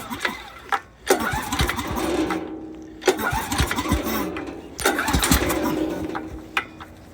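A Snapper 36-inch walk-behind mower engine is cranked in repeated pull attempts, coughing and sputtering to life in bursts at close range with no talking.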